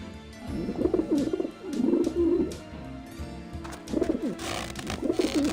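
Pigeons coo in the video game Grim Fandango, several soft, throaty rolling calls repeating in bursts at moderate volume with no talk over them.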